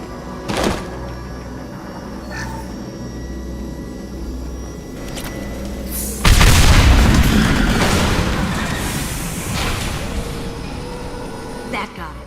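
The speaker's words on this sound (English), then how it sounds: "There's easily enough to blast through the walls. It'll take heavier weapons than that to blow those tanks." Fuel tanks exploding in Mass Effect 2 Legendary Edition: after scattered thuds and low rumble, a sudden heavy blast erupts midway, then a long roaring, crackling decay.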